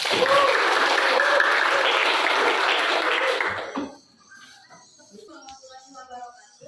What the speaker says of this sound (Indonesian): Kasih tepuk tangan dulu untuk kelompok satu.